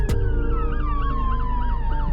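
An ambulance siren wails and sweeps steadily in pitch as it passes during a night drive in a 2023 Honda Civic Type R FL5, loud and continuous over the low hum of the car.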